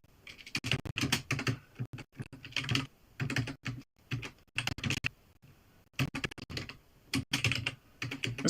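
Bursts of rapid keystrokes on a computer keyboard, with clustered clicking separated by short pauses, close and clear with no talking.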